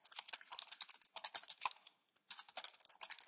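Rapid keystrokes on a computer keyboard entering a date into accounting software, a quick close run of clicks with a short pause in the middle before the typing resumes.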